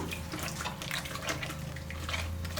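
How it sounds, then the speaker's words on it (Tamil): Water is poured into a simmering fish curry in a home kitchen, a steady close splashing and gurgling with no talk over it. "பெரட்டி விட்டுட்டு இப்போ தேவையான அளவுக்கு தண்ணி ஊற்றிக்கலாம்"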